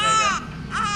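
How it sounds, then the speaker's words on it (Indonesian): A newborn baby just brought out of the operating room cries loudly, two strong wailing bursts with a short dip between them, close and alone. "Ini bayi saya yang baru lahir keluar kamar operasi, menangis kenceng"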